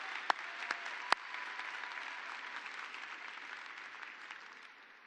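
Scattered, light audience applause in a large hall at a Future Farmers of America national convention, a steady wash of distant clapping with a couple of sharp nearer claps early on, fading slightly toward the end.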